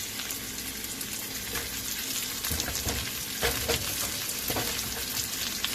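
Pineapple fried rice sizzles and fries in oil in a pan, a steady close crackle with occasional louder stirring scrapes and pops, no voices.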